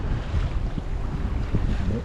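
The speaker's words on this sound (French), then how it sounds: "On profite d'un joli petit vent arrière pour avancer tranquillement en direction de notre petite île." Sailboat running before a light tailwind off the Italian and Croatian coast, heard as a steady wash of wind and water rushing past the hull, continuous and fairly loud, with no voices.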